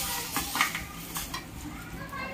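Rohu fish pieces set one by one into hot oil in a pan, with metal utensil clinks, scraping and a soft sizzle close by, a few light clatters spread across the moment.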